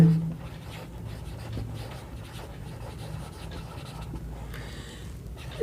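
A pen scratches across paper as the given values of a maths problem are written out, a soft, continuous close-up scribbling that ends with a short louder knock.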